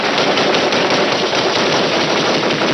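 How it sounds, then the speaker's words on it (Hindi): Sustained rapid gunfire from indiscriminate shooting by terrorists rattles without pause, a dense, loud burst of automatic fire filling the whole stretch. "आतंकवादी फौरन कार से कूद गए और उन पर अंधाधुंध फायरिंग करने लगे।"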